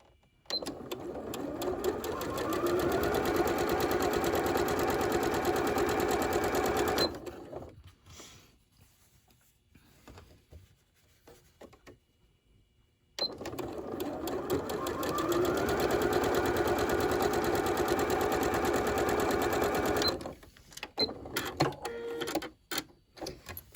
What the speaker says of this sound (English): I would just sit and chain stitch all of the different components like this.